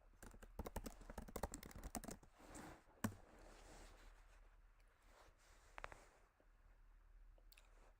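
Rapid, irregular clatter of keys being typed on a computer keyboard to enter a search, dense bursts for about two seconds, then a few scattered clicks in a quiet room.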